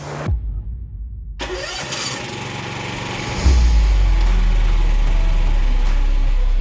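A Baumr-AG 360SZX 36-inch stand-on zero-turn mower with a 23 horsepower engine cranks after a short silence, catches and settles into a loud, steady idle with no talk.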